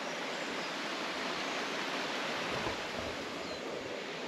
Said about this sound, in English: This is the first set of waterfalls. Aber Falls are just beyond me